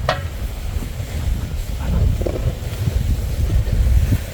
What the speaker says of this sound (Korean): 아이고, 바람.